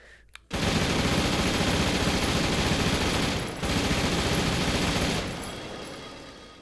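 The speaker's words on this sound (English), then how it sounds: "this thing has a very high rate of fire because it's sort of a minigun" A minigun fires in the VR shooter game H3VR, unleashing a loud, continuous buzzing roar of extremely rapid shots that briefly pauses, resumes, then trails off at the end.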